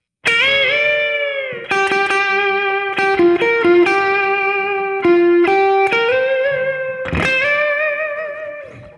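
Electric guitar with overdrive plays a minor slow blues lick, sustained notes pushed up with wide overbends, several picked phrases ringing loud and alone with reverb.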